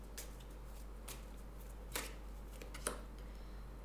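Tarot cards shuffled and drawn by hand, a few soft riffling swishes and crisp snaps over a faint steady hum, quiet and close with no talking.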